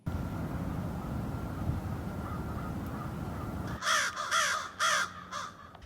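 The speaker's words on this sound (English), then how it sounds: "People who wake up to the sound of crows would usually disagree, but not Shannon Ellis" Crows cawing outdoors, four loud harsh caws in quick succession after several seconds of rumbling background noise like distant traffic or aircraft.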